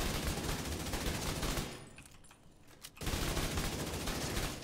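Rapid automatic gunfire in The Division 2, a loud sustained stream of shots that pauses briefly about halfway and then resumes at full intensity.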